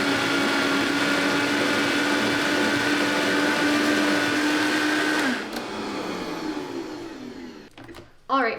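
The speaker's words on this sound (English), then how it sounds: "Always make sure to put your blender back down to 1." A blender whirs loudly and steadily while blending a vegan mac and cheese sauce, then its motor winds down and stops, leaving a few soft knocks and clatters at the end.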